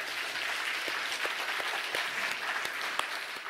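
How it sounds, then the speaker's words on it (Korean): Applause rolls through a congregation during a Sunday worship service at a Korean church, steady moderately quiet clapping from many hands heard from a slight distance for a few seconds. "영광의 박수 돌리겠습니다"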